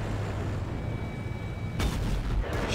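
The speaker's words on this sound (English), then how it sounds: "Shot the Leopard 1 there." A tank cannon shot in World of Tanks, one heavy boom bursting out of steady battle rumble, followed by a second, lighter impact moments later.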